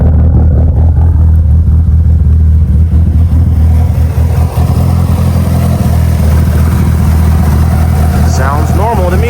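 A tuned Mitsubishi Evo engine idles steadily and loudly with a deep, constant rumble throughout, while a person talks over it.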